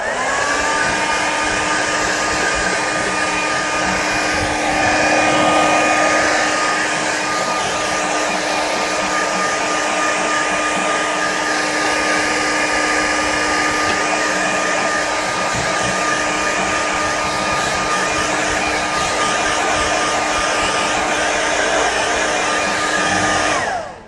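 A hair dryer blows over stretched watercolour paper, giving a loud, steady whir that runs without a break for about 24 seconds before cutting off. No one speaks.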